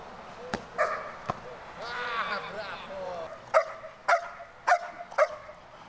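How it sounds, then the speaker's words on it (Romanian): Gendarmerie intervention dogs trained for public-order missions bark in short sharp bursts, several loud barks with a whimpering yelp between them, close by and outdoors. "Este vorba despre câinii de intervenție instruiți să atace și să imobilizeze agresorii"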